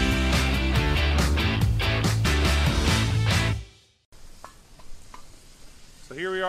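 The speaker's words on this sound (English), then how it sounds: "we're doing a little stir fry. We got some carrots and broccoli in here with a little soy sauce and some butter, sauteing those" Carrots and broccoli with soy sauce and butter sizzle in a FireDisc cooker at a hunting camp, a loud steady frying hiss with stirring that cuts off abruptly, leaving faint outdoor sounds.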